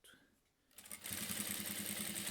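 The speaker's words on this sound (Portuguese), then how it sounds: "termino a costura com um retrocesso" A sewing machine backstitching to finish bias binding on a fabric pill holder starts up after a quiet moment and runs in a steady, rapid mechanical chatter, fairly close.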